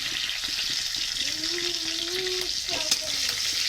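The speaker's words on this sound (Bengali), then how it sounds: "এখন এটার মধ্যে আমি শুকনো লঙ্কা দিয়ে দিচ্ছি, আর লঙ্কা আর রসুন কুচি দিয়ে দিচ্ছি।" Dried chillies and chopped garlic fry in oil for a potato mash dish, a constant hissing sizzle up close with occasional stirring knocks and a short low murmur partway through.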